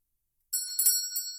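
A bright, high metallic bell rings out suddenly after a moment of silence, giving a few quick shimmering strikes that hold and fade briefly, clear and close with nothing else around it.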